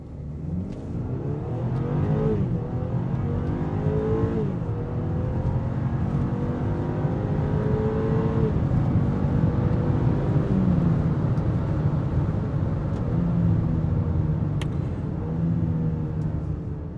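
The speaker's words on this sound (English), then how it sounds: "Those upshifts were nice and crispy, pushed me a little bit back in the seat" A BMW X3 luxury SUV with a fairly small engine accelerates hard, its engine note climbing in steady sweeps and dropping at each crisp upshift, loud and continuous from inside the cabin.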